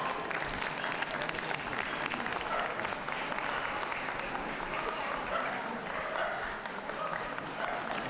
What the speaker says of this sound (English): Let's give some applause to these dogs.